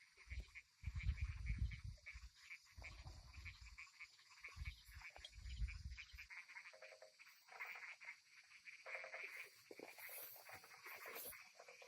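Field frogs croak in loud, repeated low pulsing bursts during a frog hunt on dry farmland, the calls close and strong at first, then giving way to quieter chirping and rustling.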